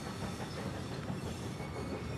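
A train rolls steadily along the rails with a dense, continuous rumble and rattle, loud and close, with faint wheel noise and no speech.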